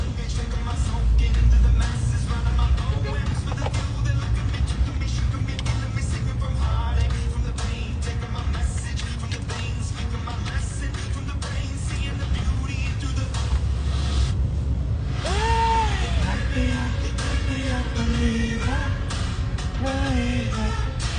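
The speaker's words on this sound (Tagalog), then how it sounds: "Sobrang traffic talaga. Hindi gumagalaw yung sasakyan." Heavy road traffic heard from inside a car stuck in a jam: a steady low engine and road rumble runs throughout, with a few rising tonal whines near the end.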